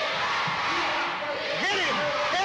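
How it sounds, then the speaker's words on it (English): A wrestling arena crowd at a live CCW event roars and cheers continuously, loud and broad, with shouting voices rising above the steady wash of noise. "This crowd is electric."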